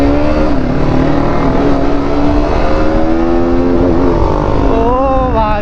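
A KTM RC 125 motorcycle engine runs close and loud, a steady rough drone that rises in pitch near the end as it revs.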